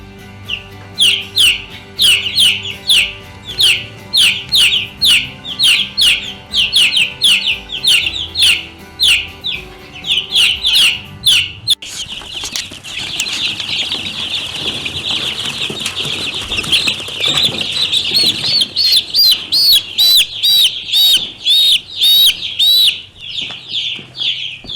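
Freedom Ranger chicks cheep loudly in a brooder in a rapid, repeated chorus of shrill peeps. A burst of rustling and wing flapping joins midway under the continuing calls.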